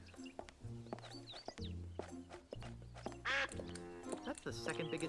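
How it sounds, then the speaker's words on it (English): A cartoonish duck quacks in the video game Escape from Monkey Island, a single bright nasal squawk mixed among spoken dialogue and game sounds. "It's a rather unspectacular duck."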